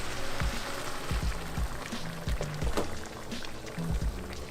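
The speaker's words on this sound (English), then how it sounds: "And now you just add a bunch of boiled water." Boiled water poured onto dry quinoa in a pot, giving a steady splashing, gurgling pour that runs continuously for a few seconds at close range.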